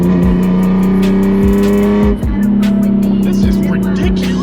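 A BMW E46 M3 with a valvetronic exhaust, valves open, rumbles loudly close by with a deep steady drone, punctuated by several sharp throttle blips and a brief dip mid-way.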